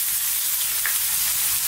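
Ginger and garlic sizzle loudly in a hot pan for a lamb and potato curry, a constant close hiss of frying with no talking over it.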